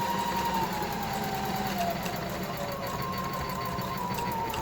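A domestic sewing machine running a decorative stitch along the edge of a fabric facemask, slowed down, giving a steady, close mechanical whir with a faint rhythmic clatter throughout.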